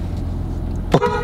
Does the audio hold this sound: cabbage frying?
no